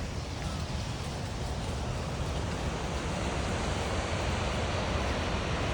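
Steady broadband rushing of a waterfall near Juneau, Alaska, a dense continuous roar of falling water with wind-like hiss, constant and fairly close throughout, with no voices.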